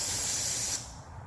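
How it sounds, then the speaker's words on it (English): Insecticide spray can blasting at wasps in a garage, a loud steady hiss for under a second that cuts off sharply, leaving quiet background. "I went to the dollar store and got some death spray."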